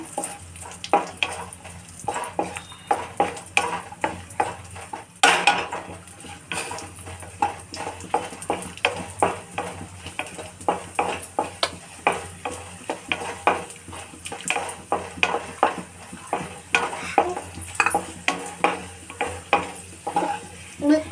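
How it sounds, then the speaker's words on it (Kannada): Rava laddu prep: ghee roasting in a pan while a spoon stirs, giving a steady soft sizzle broken by many rhythmic scraping clinks of utensil on metal, close and fairly loud, with no speech. "ತುಪ್ಪನ ಸೇರಿಸ್ಕೊಂಡು ಚೆನ್ನಾಗಿ ಸ್ವಲ್ಪ ರೋಸ್ಟ್ ಮಾಡ್ಕೊಳ್ಳೋಣ"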